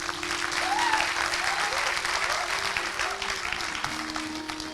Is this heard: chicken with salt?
no